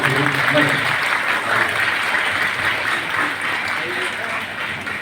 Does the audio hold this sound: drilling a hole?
no